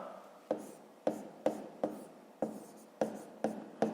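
Pen strokes scratch across notebook paper while numbers are written out for a math exercise: eight or nine crisp, evenly spaced scribbles, each starting sharply and fading, close and clear with no talking.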